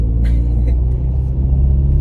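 A car's engine rumbles steadily while driving, a loud, close, continuous low drone with faint road noise and no talking.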